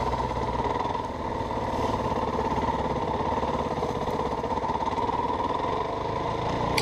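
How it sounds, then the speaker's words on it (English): A new dirt bike rides through sage grass, its engine buzzing steadily and loudly up close with a throbbing, even rhythm and no talk over it. "So here I am riding through that sage grass."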